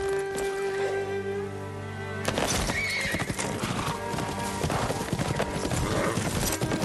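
A horse in the Ghost of Tsushima video game whinnies and trots, a long neigh followed by steady clip-clopping hooves that keep a brisk rhythm, close and fairly loud.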